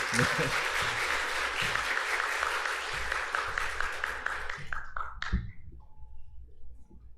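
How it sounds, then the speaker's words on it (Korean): A church congregation at Sunday worship claps to welcome a visiting missionary, steady applause for several seconds that thins out and stops, with a few scattered claps and a voice near the end. "박수로 환영하도록 하겠습니다"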